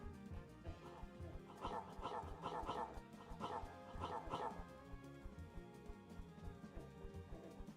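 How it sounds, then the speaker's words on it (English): A small dog yips and barks in short bursts, several quick clusters mid-clip, over a busy game-music backdrop in a Roblox-style game. "Dog."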